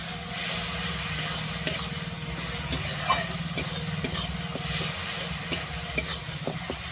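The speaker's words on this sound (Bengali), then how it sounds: "আমি এরপরে দিয়ে দিচ্ছি বেটে রাখা সর্ষেটা" Ground mustard paste fries in a pan for a Bengali-style sea fish curry, a continuous close sizzle with repeated scraping clicks of a spatula stirring through it, no one talking.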